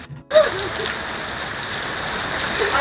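Heavy rain falls outside in the Philippines, a dense, steady hiss of drops hitting surfaces that starts abruptly after a brief pause and continues evenly and loud with no talking.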